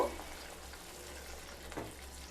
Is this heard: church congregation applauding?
no